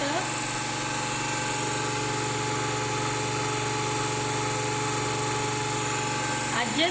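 A DC series motor on a field test runs with a steady electric hum and whine at a constant pitch, close and unbroken for several seconds, ending with a couple of faint knocks.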